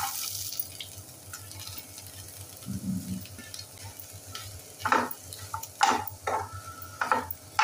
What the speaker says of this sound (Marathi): सुरुवातीला आपण कांदा भाजून घेऊया